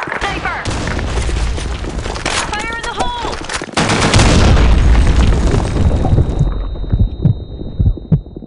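Grenade blasts and gunfire in a shooter video game, loud booming bursts with rapid shots over a dense game soundtrack, while voices shout over the action.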